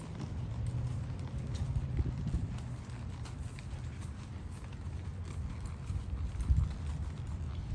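Horse named Darling walking under a first-time rider, hooves clip-clopping in a steady, fairly close rhythm over a low rumbling background.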